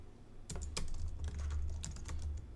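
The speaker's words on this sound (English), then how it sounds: "my typing is bad today" Rapid, irregular typing on a computer keyboard, with clustered key clicks and a few sharper strokes. The clatter is close and continuous, with no talking.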